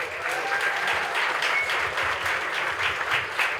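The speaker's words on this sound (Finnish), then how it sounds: "Kunnan aplodit." Steady audience applause at a Finnish karaoke contest gala, dense clapping held at an even level from start to finish with no voices over it.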